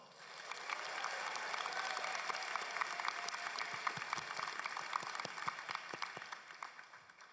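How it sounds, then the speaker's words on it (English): Graduates at a college convocation ceremony give themselves a round of applause, steady dense clapping that swells and holds for several seconds at moderate distance. "Give yourselves a round of applause."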